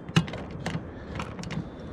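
Small wrench tightening the bolts of an aluminum side ladder on a camper van, giving a few faint clicking, ratcheting strokes spaced about half a second apart, close and quiet.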